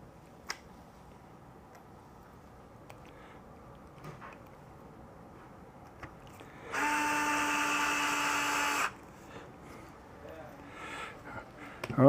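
A low-torque power driver runs once for about two seconds, whirring steadily as it drives a screw into a Yokomo Rookie Speed RS 2.0 touring car kit, with quiet ticks and handling noises around it.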